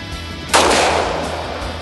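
A single sharp revolver gunshot cracks out loudly, followed by a decaying outdoor echo.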